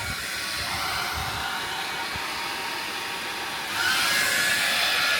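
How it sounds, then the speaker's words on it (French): A hair dryer runs on a BLUETTI 100 v2 portable power station, a loud steady whooshing hiss that jumps to a stronger, higher setting partway through. "donc même le sèche-cheveux, on peut s'en servir"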